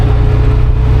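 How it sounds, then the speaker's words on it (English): A car engine runs loud and close off throttle around 3,700 RPM, giving a steady low drone with a fast pulsing rattle throughout. "I'll go off throttle and you can hear that rattle"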